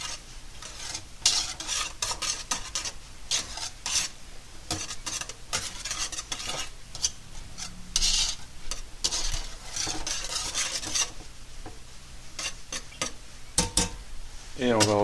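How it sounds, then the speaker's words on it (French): Couscous semolina being mixed by hand with a little cold water, giving dense repeated rubbing and raking scrapes at close range, with brief voice fragments in between. "On va rajouter un petit peu d'eau froide. On va bien mélanger pour..."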